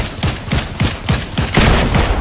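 Rapid close gunfire from Fortnite, a run of loud sharp shots in an even rhythm, about five distinct cracks before denser overlapping bursts near the end, with no talk.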